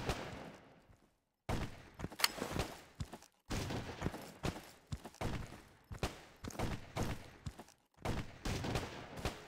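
Gunfire in the video game Ashes 2063 sounds as loud bursts of rapid shots and sustained volleys, broken by brief silent gaps, close and punchy with no talking.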